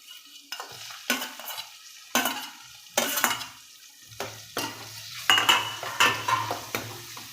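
Tomatoes tossed into a pan of onions fried until pink, with repeated scraping stirs of a utensil against the pan over a low sizzle, close and moderately loud.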